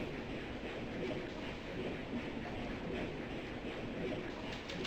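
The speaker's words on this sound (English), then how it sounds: "What is up with these trains?" Trains run in the Railroad Tycoon II video game, giving a steady, moderately faint rumble and clatter of rolling stock that holds even through the moment, with no pause or break.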